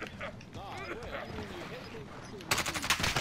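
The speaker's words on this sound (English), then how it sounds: "SMG." Submachine gun fire in a first-person shooter game, a rapid burst of shots bursting in loudly near the end after a stretch of excited chatter between players.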